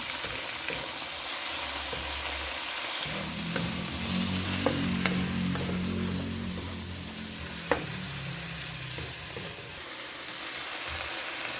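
Chicken breast with a little soy sauce frying in a pan. A steady quiet sizzle runs throughout, with a few sharp clinks as it is stirred and a low rumble from the stove underneath.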